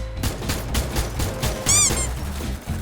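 Rapid gunfire from a shooting video game: a quick string of sharp shots in an even rhythm, fairly loud, with a brief ringing metallic effect near the end.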